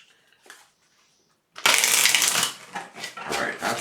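A brief quiet rustle, a pause, then a loud, close burst of tarot cards riffling and flapping together, continuing in rough papery waves.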